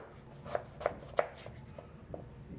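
A knife slices through raw potatoes on a cutting board, cutting them into fries and wedges: a few crisp, evenly spaced chops up close, then softer cuts trailing off, with no talking.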